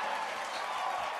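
Audience clapping for a dancer at a dance-off, a dense steady wash of applause throughout, fairly loud and continuous.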